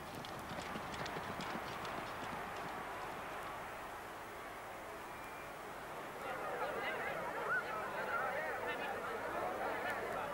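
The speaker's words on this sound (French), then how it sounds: "du Derby en 1913, Emmet Davison va jusqu'à se jeter sous les pattes du cheval portant les couleurs royales et meurt piétiné." Racehorse hooves pound the turf at the 1913 Derby, a fast, continuous clip-clop of galloping that grows a little louder toward the end, with faint voices beneath.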